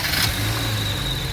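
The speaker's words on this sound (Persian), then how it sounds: "خب بچه الان ماشین رو ما روشن میکنیم" A Saipa Pride car engine runs steadily just after starting, with the radiator cap off and coolant low after a thermostat replacement; a low, even hum with a faint whine holds constant throughout, with no talk.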